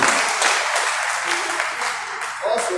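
Sustained applause from a crowd at a Nigerian political campaign rally in Ondo State, dense steady clapping throughout, with a voice starting to speak faintly near the end.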